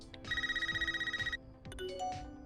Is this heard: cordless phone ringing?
yes